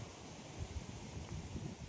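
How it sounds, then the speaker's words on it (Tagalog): Steady wind roars and buffets the microphone outdoors, a continuous low rumble with faint rustling and no voices. "Lakas ng hangin."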